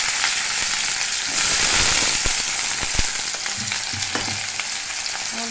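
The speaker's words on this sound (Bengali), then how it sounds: "আলুগুলো তেলে ভেজে নেব।" Potatoes frying in oil in a kadai, a steady loud crackling sizzle with occasional sharp pops and some faint clinks toward the end.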